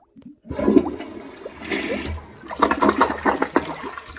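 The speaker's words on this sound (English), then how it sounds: "this is the toilet, and I'm gonna go ahead and flush it so you can see." A newly installed toilet is flushed close up. Water rushes and splashes loudly, then gurgles and swirls as the bowl drains and refills, all heard alone without talk.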